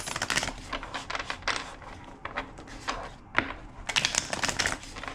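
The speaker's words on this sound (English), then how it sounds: "2 more shuffles." Rapid clustered crisp riffling of cards being shuffled, several bursts of fast clicking close by with short pauses between.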